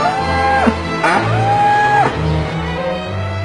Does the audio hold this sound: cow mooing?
yes